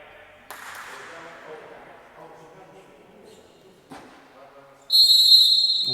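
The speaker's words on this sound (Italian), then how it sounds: "si attende solo il fischio dell'arbitro" A referee's whistle blows one loud, sustained blast to start a Serie C2 football match between Cures and San Vincenzo de' Paoli, following a stretch of quiet background murmur and a single thud.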